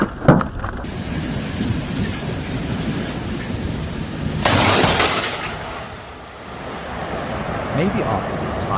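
Heavy rain pours steadily with rolling thunder, swelling into a loud crash midway, while people talk and shout under the storm noise.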